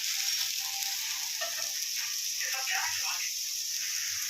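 Millet pudla cooking in a pan over a high gas flame, a steady close hiss and sizzle throughout with faint scraping underneath.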